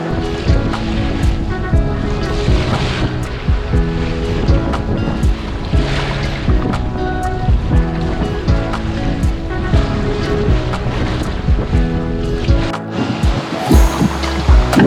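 Strong wind and waves roar around a sailboat sailing into about 20 knots of headwind with the engine off. The wind noise is loud and steady, with water washing against the hull throughout.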